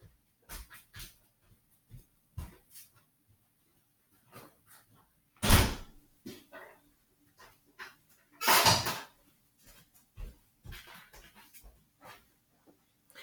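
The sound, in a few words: beagle dog walking into the house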